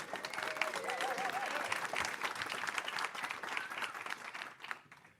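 An audience at a nutrition livestream event breaks into sustained applause with cheering, a dense crowd wash holding steady before tapering off at the end.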